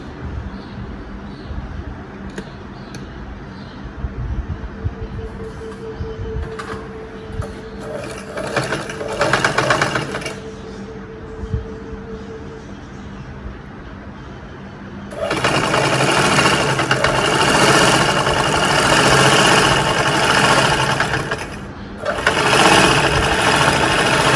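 Sewing machine stitching saree fabric for an anarkali dress with frills, first in softer intermittent runs with some fabric handling, then loud sustained stitching bursts that continue to the end with a brief pause.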